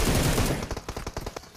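Automatic gunfire in the mobile battle-royale game PUBG Mobile: a heavy blast gives way to a rapid string of sharp, evenly spaced shots, loud and close with no talking.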